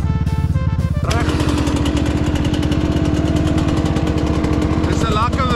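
A scruffy KTM dirt bike engine revs loudly and close, its rapid pulsing rasp steady after a brief change in the first second, with voices heard over it.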